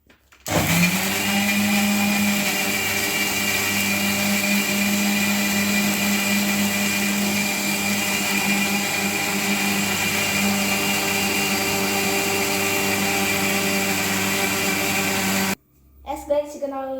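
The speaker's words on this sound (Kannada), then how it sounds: "ಈಗ ನೋಡಿ ನಾವು ಇದನ್ನು ಹಾಕಿ ಒಂದು ಗ್ರೈಂಡ್ ಮಾಡ್ಕೊಡೋ. ಕ್ಲೀನಾಗಿ ಗ್ರೈಂಡ್ ಮಾಡ್ಕೊಡೋ." A mixer grinder runs steadily at high speed, blending ingredients for a homemade Sharjah milkshake drink, a loud continuous whine that lasts about fifteen seconds and then cuts off abruptly.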